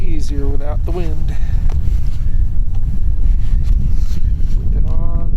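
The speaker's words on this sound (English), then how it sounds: "this would be easier without the wind" Wind buffets the microphone in a constant low roar while people fish from a boat on Presque Isle Bay, with voices and chirpy electronic beeps over the top.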